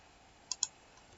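Two quick, faint clicks from a computer keyboard key being pressed during spreadsheet work, sharp and close together against a quiet background.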